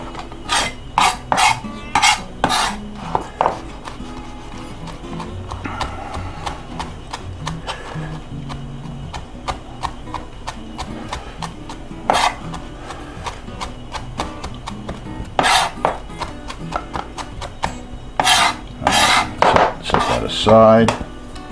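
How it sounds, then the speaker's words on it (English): Fresh herbs are chopped finely on a board with a knife, giving bursts of rapid, crisp taps separated by pauses, close and fairly loud. "we're going to chop this really fine"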